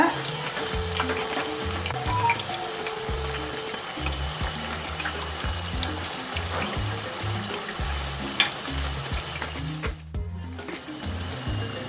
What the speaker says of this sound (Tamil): இந்த எண்ணெயோட சலசலப்பு நிற்கிற வரைக்கும் நம்ம ஃப்ரை பண்ணணும்.